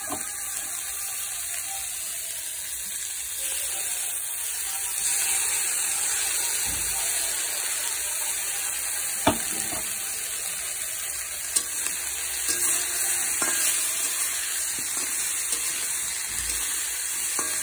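Continuous bright sizzle of vegetables, tomato and spices frying in hot oil, with occasional clinks of a spoon stirring the pan.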